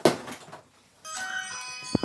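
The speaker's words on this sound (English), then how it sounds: "there goes the fucking doorbell again" A home doorbell rings once, a short tonal chime after a brief thump, heard faintly indoors with little else around it.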